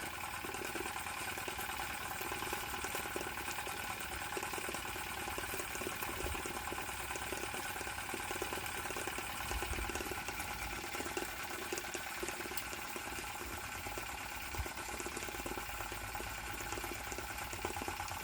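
A gas-fired Retrol EngineDIYshop SE-03 vertical steam engine running with its boiler, giving a steady, faint hiss and soft mechanical churn that stays even throughout with no voices.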